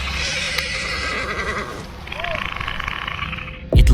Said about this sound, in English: The horse notices it too and gets totally spooked.